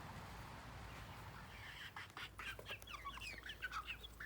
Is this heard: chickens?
yes